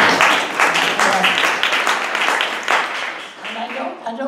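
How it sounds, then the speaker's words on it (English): An audience at an event at the Woodstock Byrdcliffe Guild breaks into loud, dense applause, many hands clapping together and slowly thinning out over several seconds. "you can applaud, they deserve it."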